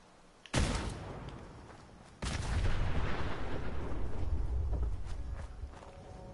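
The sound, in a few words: Gauss rifle firing in video game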